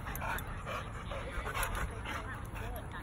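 Young Belgian Malinois dogs bark, yip and whimper in a busy, noisy scene, sounds overlapping with people talking nearby throughout.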